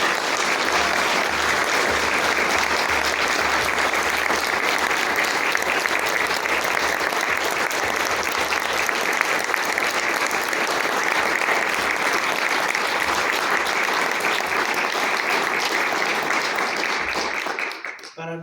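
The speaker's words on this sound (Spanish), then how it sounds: "demos un aplauso muy fuerte desde el corazón a los compañeros del Comité 68" Loud, sustained applause from a large crowd at a memorial plaque unveiling ceremony, steady and dense for the whole stretch, fading abruptly at the end.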